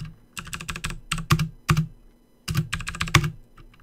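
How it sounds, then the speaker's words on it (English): Keys clatter on a very loud mechanical computer keyboard in bursts of rapid, sharp clicks, with two quick flurries split by a short pause, close up and with no voices. "I know some of you guys are laughing at my crazy loud mechanical keyboard"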